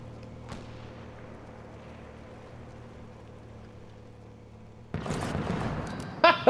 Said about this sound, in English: Ah, that's what you call a drive-by shooting